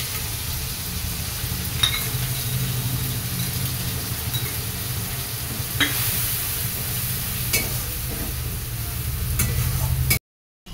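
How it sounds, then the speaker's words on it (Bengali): Pointed gourd (potol) fries in a pan with a steady, close sizzle and occasional stirring scrapes, holding a constant level before cutting off abruptly near the end. "আর এদিকে পটল ভাজা হচ্ছে জল কমিয়ে কমিয়ে"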